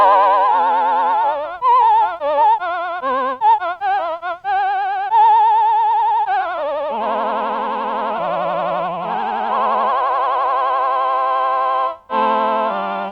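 Behringer VC340 vocoder voice with an extreme, rapid vibrato, a buzzy harmonic synthetic tone warbling continuously, alternating between wobbling sustained notes and quicker pitch glides, loud and close with no speech.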